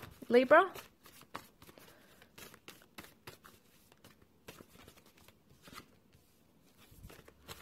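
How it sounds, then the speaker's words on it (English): Tarot cards being shuffled with quick papery riffles and soft flicks, a brisk flurry at first, then lighter scattered taps, close up. "I feel like I need to shuffle once more."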